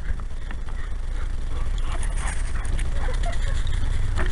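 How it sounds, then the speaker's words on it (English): A dog whimpers and whines in short, thin, high cries at a home welcome, scattered across steady background noise, close and fairly loud. "Bruno, you knock it off. Bad dog"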